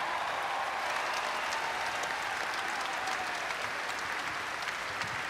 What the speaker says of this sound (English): One more big round of applause for Aari McDonald